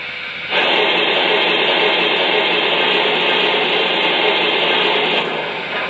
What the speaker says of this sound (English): there's a sound effect for steam shooting out of the cylinders.